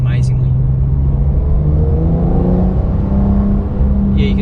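A Porsche 992 Carrera S engine held in gear in manual mode and droning steadily from inside the cabin while driving, with a low, sustained note and faint speech over it.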